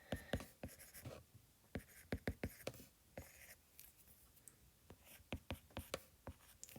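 Pen or marker writing out math on a board during a lecture, a run of sharp, irregular scratches and taps close by, with no talk over them.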